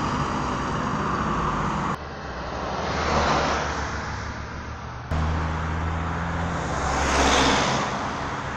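Steady road traffic on a busy route near Chambéry and Grenoble, with a continuous roadside roar that swells twice as nearby vehicles pass.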